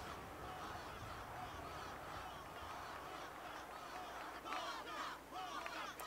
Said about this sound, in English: Are they cheering for Waka?